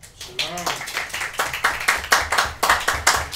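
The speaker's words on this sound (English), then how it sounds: "So give the Most High a round of applause for that." A congregation gives a round of applause at a church gathering, loud close rhythmic clapping in quick succession, with a voice heard briefly at the start.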